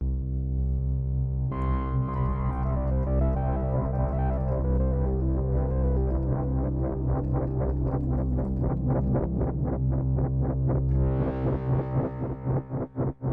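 A droning Moog Matriarch synthesizer tone with a wavering, echoing delay whose feedback is modulated, pulsing faster and faster into rhythmic stutters, then swelling and fading near the end.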